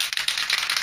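Spray paint can shaken briefly, a fast loose rattle close up during restoration work on a Mk3 Cortina.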